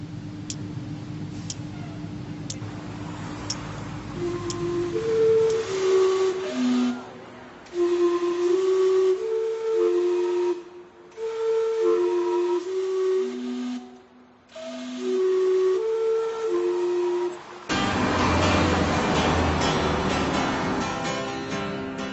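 Vancouver's steam clock whistles out a tuned melody in a series of clear, loud pitched notes with short gaps between phrases, then gives a long hiss of steam, all heard without talk.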